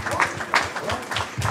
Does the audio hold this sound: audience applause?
yes